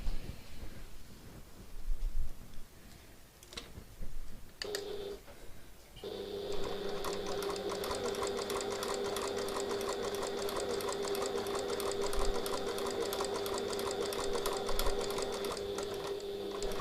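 A sewing machine stitching a piped pocket on a tote bag starts after some handling and clicks, then hums continuously with a fast, even, loud mechanical rattle to the end.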